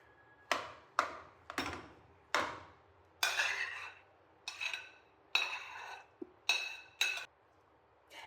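Frozen peas and carrots stirred into cooled rice for home-cooked dog food, giving a string of repeated clinking, scraping strokes of a spoon against a bowl, about ten close, distinct bursts.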